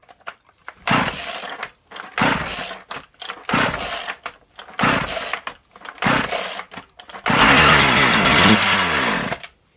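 A Husqvarna 36 chainsaw, just reassembled after repair, is pulled repeatedly with the starter cord, giving several loud rasping pulls, then fires up without prime and runs with a steady, close two-stroke buzz.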